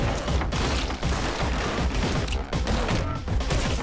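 Pistol fire in a video game, shots ringing out in quick succession as a dense, continuous volley of sharp cracks with no pauses between them.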